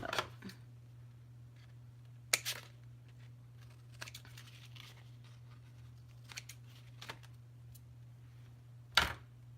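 Scissors snip through paper for a mini Christmas folio journal in a few separate, sharp cuts, quiet and close against a steady low hum.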